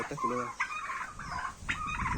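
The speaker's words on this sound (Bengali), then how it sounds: "এটা হচ্ছে একটা মুরগির ফার্ম।" Chickens on a chicken farm cluck and squawk close by in quick, overlapping bursts that keep going for a couple of seconds.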